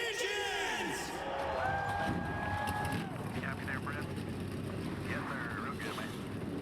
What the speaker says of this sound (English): Engines are fired.